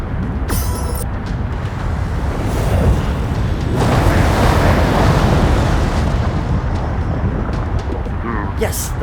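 A torpedo blast in the video game Dave the Diver clears a blocked underwater path, swelling into a loud, deep rumbling roar that peaks midway and then slowly subsides amid watery ambience.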